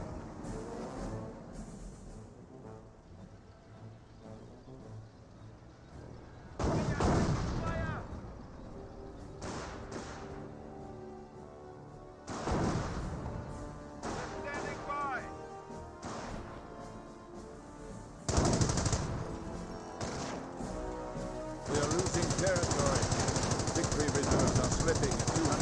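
Gunfire in the World War II strategy game Company of Heroes, with bursts of automatic fire and heavy impacts rising and falling through a long stretch of battle noise, under an intermittent voice.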